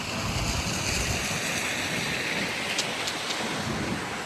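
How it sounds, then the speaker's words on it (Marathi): Steady rain hiss mixed with gusting wind buffeting the microphone, a dense continuous wash of noise with no one speaking. "मस्त पाऊस चालू आहे आणि थंडगार असं वारं चालू आहे"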